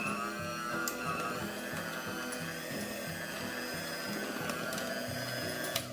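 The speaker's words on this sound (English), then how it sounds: "So I'm going to give a last whisk one more time." A blender whisks vegan royal icing with a steady mechanical whir and rhythmic churning pulses over several seconds, moderately quiet and heard close up without talk.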